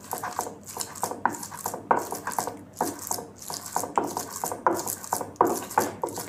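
Mie Sedaap instant noodles being mashed by hand for sempol, a steady series of about a dozen rhythmic crunching, scraping strokes, close and moderately loud with no talking.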